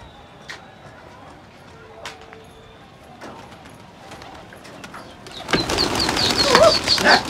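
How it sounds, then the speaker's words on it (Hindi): A pigeon bursts into flight near the end, its wing flaps a loud flurry after quieter outdoor ambience with scattered bird calls and faint thumps. "देखिए भाई उड़ गया कबूतर।"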